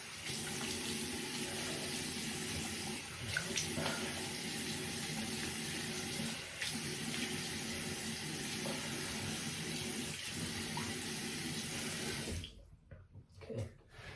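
Water runs steadily from a tap while a head is rinsed before a shave, a constant close hiss with small splashes, cutting off abruptly near the end.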